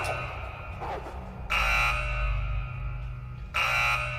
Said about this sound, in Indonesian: tiba-tiba alarm kurungan milik Sean berbunyi